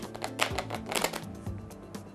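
Playing cards riffle shuffled by hand in a close, quiet setting, giving dense rapid fluttering bursts of card edges that repeat a few times, with no talking.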